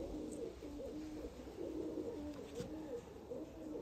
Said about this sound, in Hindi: ये अली वाला कबूतर है जी